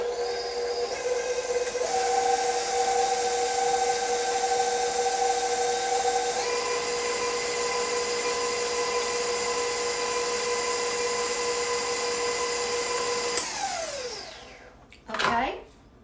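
Electric mixer whirring steadily as it blends chocolate pound cake batter, a loud sustained motor whine that shifts pitch with speed changes, then spins down and stops near the end with a brief scrape.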